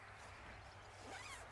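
A phone zipped into a jacket pocket: one quick rising zipper pull near the end, close and fairly quiet over steady low outdoor rumble.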